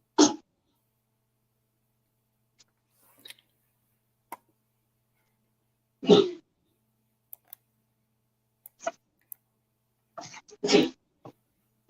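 Two loud sneezes several seconds apart, with faint clicks and ticks scattered through otherwise quiet surroundings.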